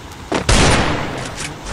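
A Desert Eagle firing in a video game, one loud, sharp report followed by a lingering tail, close and alone.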